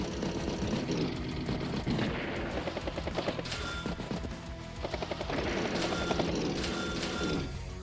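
Battlecopter and ground units trading fire in Advance Wars by Web, dense rattling bursts of gunfire and explosive hits, loud and continuous with rotor-like whirring underneath.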